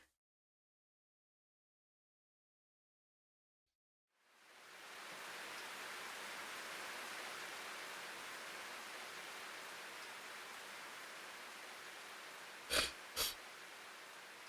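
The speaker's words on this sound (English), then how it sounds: "It started to rain." Steady rain hiss in the video game Slow Damage swells in after a few seconds of silence and holds as an even, soft wash, with two brief sharp knocks near the end.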